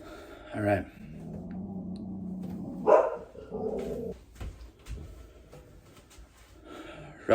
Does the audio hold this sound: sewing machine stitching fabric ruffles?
no